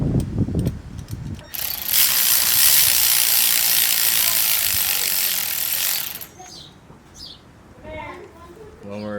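Hand tools ratcheting and turning as detent springs are pulled from an Acura TSX transmission, a loud continuous rasping burst in the middle with brief clicks before and after, and a voice talking near the end.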